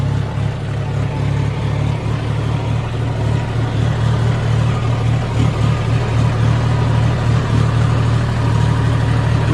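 Tractor engine running steadily up close on a sunny, breezy farm while preparing for sugarcane planting, a constant low diesel rumble that holds level for the whole stretch with no voices over it.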